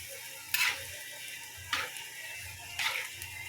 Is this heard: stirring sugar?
yes